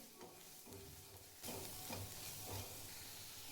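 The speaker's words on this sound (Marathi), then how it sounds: "तेलामध्ये मसाले भाजायचे आहेत." Ground spices, including coriander powder and black masala, roast in hot oil with a soft, steady sizzle and a few stirring scrapes, quiet and close.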